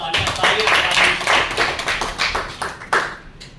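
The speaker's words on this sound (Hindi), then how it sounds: "तालियां" Clapping from attendees at a team building and conflict resolution session at a company, a loud patchy burst of hands with distinct individual claps standing out, fading toward the end.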